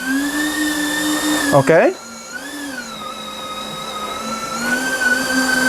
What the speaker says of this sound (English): So the front motor seems to respond.